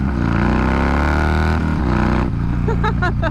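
A Harley-Davidson FXRP motorcycle engine running through a newly fitted exhaust pipe: a loud, continuous, close rumble that holds steady, then shifts tone slightly near the end.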